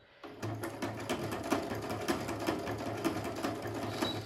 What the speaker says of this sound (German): dann näht die Nähmaschine allein, auch rückwärts